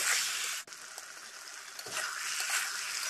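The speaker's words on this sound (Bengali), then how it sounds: "তো এখন ভালো করে মশলাটা কষিয়ে নিব।" Spice paste of onion, garlic, cumin and ginger sautéing in a pan, a soft steady sizzle with a couple of brief spoon knocks and stirring scrapes, fairly quiet and without voices.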